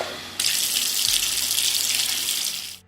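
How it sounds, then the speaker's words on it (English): A bathroom faucet turns on suddenly and water runs in a steady, loud hiss into the sink for a couple of seconds, then cuts off with a brief clunk. "A sound from my bathroom. The faucet turning on."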